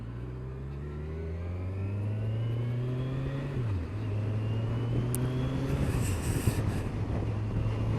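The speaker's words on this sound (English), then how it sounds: "The engine's an absolute peach, very smooth, feels very powerful, it's got a lovely sound to it" A 2014 Kawasaki Z1000SX motorcycle engine pulls hard through the gears, a smooth rising drone with a brief dip at each shift, then climbing again under steady wind noise.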